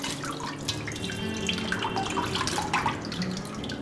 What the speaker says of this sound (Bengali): কানকোর এক একটা পরত জলের তলায় আঙুল দিয়ে কোচলে কোচলে ধোবো